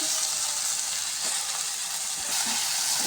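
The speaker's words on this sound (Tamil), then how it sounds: "நல்லா தக்காளி வதங்கட்டும்" Chopped tomatoes and onions sauté in a pan for a snake gourd kootu, giving a steady, close sizzle throughout with a couple of faint stirring touches and no talking.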